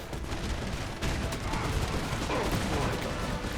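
Musket and artillery volleys on a battlefield in the video game Empire: Total War, a dense continuous roll of distant gunfire and booms layered with low rumbling battle noise.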